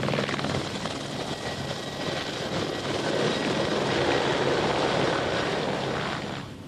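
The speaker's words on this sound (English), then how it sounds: "Okay, the helicopter's on the way." A helicopter's thudding rotor and engine roar fill the scene steadily, loud and close, then ease off slightly at the end, at the Isle of Man TT motorcycle races in 1998.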